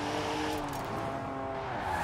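A three-litre twin-turbo straight-six car with 335 horsepower slides sideways in a drift, its engine a steady loud drone with tyre noise running continuously throughout.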